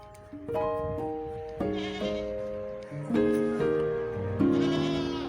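Young goat kids bleating repeatedly on a farm, several overlapping high wavering cries close by, with livestock nearby and no talking.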